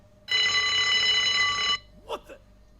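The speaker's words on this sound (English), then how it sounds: "alarm goes off" A loud buzzing electronic alarm in the game Unheard sounds in one sustained burst of about a second and a half, then cuts off, followed by brief voices.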